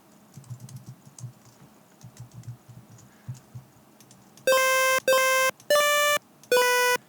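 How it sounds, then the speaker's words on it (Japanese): Four short, loud square-wave 8-bit synth notes from the Magical 8bit Plug sound in a quick rhythm, each shaped by an envelope, following a stretch of soft keyboard clicking and mouse taps. "ちょっとフィルターがかかったようなね面白い音が作れますね"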